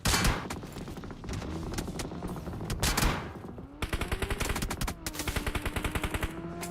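Rapid automatic gunfire from a PUBG Mobile esports match, dense overlapping bursts of shots in steady rhythmic volleys, loud and close with a crowded battle mix behind them.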